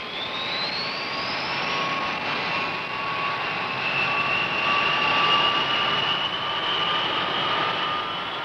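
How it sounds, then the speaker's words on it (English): B-52 bomber jet engines running as the planes taxi out, a loud, steady roar with a high whine that rises, then holds, continuous and close. "Everything ready, the B-52s taxi out and are soon on their way."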